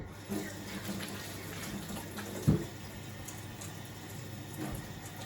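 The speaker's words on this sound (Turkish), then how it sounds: "Elimi yıkayayım" Running tap water in a home kitchen while hands are washed, a steady close hiss of flowing water with a small splash in the middle, no talk.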